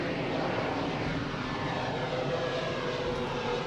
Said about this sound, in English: Yeah, another flight is coming.